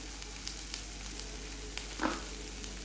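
Spice powders frying in a pan with sautéed ingredients, turmeric among them: a soft, continuous sizzle with a few faint clicks and one brief stirring scrape near the end.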